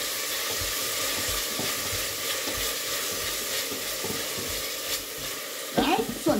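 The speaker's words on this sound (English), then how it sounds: "So now I'll be adding in my okra and my pumpkin into the pot, okay? So we stir it up a little" Okra and pumpkin are stirred in a pot for callaloo soup, producing a steady bubbling sizzle with soft scraping strokes. Near and continuous, with a sharper clatter near the end.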